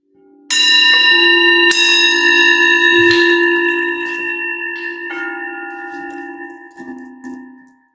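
Gongs ring at a calm group grief event, struck twice in quick succession and again later, with long sustained harmonic tones that slowly fade.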